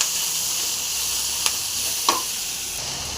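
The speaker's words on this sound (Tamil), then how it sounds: "கொஞ்சம் கொத்தமல்லி, கருவேப்பிலை எக்ஸ்ட்ராவே வீட்டில் இருந்தது, அதிகமாக தான் போட்டிருக்கோம்" Curry leaves and coriander fry in a pan with a loud, even, close sizzle, marked by two brief clicks of a utensil partway through.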